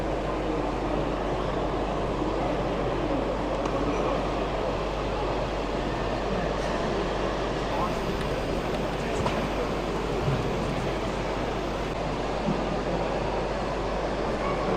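A model railway locomotive runs steadily across a hobby layout at a model railway show, giving a continuous rumbling, whirring mechanical hum that stays even and fairly loud for the whole stretch, with no clear talk over it.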